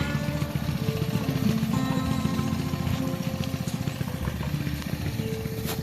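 Small mini moto engine running after carburetor jetting and valve spring work, a steady buzzing drone held at an even level throughout, with no talk.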